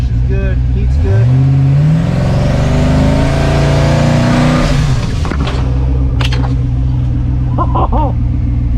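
A motorhome engine revs hard while held in gear, climbing to a loud, sustained roar for several seconds before easing off, with voices talking over it near the end.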